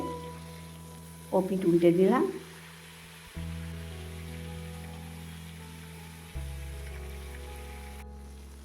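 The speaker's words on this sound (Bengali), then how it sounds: "দেখো তেল গরম হয়ে গেছে মাছগুলোকে আমি ছেড়ে দিলাম" Fish frying in hot oil in a home kitchen gives a steady, soft sizzle under a low electrical hum. Someone speaks briefly near the start, and the hiss carries on alone after she stops.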